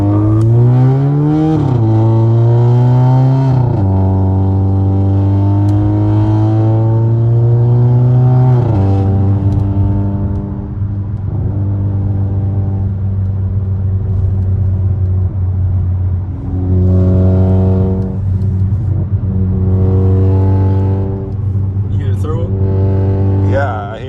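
A VW Jetta 1.8T engine with a CTS Turbo downpipe revs and idles close by, rising and falling in pitch with a raspy exhaust tone, steady and loud throughout.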